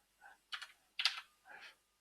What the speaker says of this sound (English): Let's type in ING